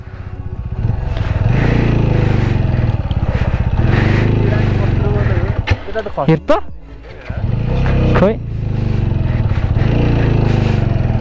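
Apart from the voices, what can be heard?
motorcycle engine straining while off-roading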